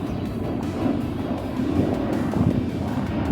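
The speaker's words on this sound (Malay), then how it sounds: "Tu dia kapal terbang yang baru berlepas" An airplane takes off from KLIA airport, a broad low roaring rumble that swells gradually and holds loud, mixed with outdoor wind noise and no voices.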